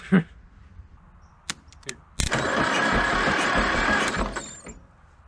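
After a few scattered clicks, a junkyard Minneapolis Moline Z tractor engine cranks for about two seconds with a weak, even churn that suggests low compression, then stops.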